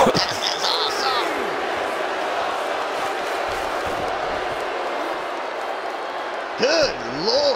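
A wrestling arena crowd roars in a continuous wash of cheering at an AEW Double or Nothing event, with excited voices briefly rising over the noise near the start and end.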